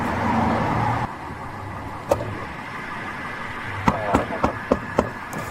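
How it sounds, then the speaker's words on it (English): Banging on a car window during a police traffic stop, a handful of sharp knocks, several clustered near the end, over a low idling engine hum. "Stop banging on my window before you break it."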